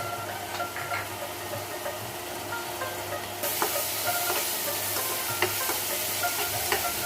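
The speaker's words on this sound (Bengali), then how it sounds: "মশলাগুলি ভালো করে ভেজে নিব" Chili and turmeric powder spices frying in a pan for a chuijhal quail curry, a loud continuous hissing sizzle with stirring scrapes and clicks, growing brighter and stronger partway through, no voices.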